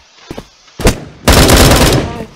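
Gunfire in the Bullet Force shooter game: a couple of faint shots, then a single loud blast and a sustained rapid burst of automatic fire, close and loud, with a voice calling out just before.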